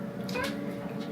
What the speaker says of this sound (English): What noise does the cat make?